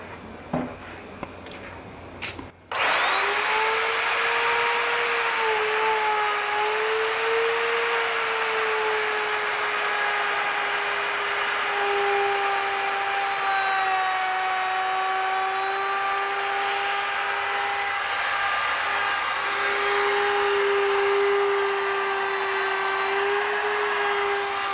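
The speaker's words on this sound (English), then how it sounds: "I'm wearing these because this thing's really loud. It's loud. It's got a high pitch." A Makita RP0900 plunge router cuts a red mahogany table top, starting with a sudden loud burst and then holding a steady, piercing high-pitched whine up close for over twenty seconds without a break.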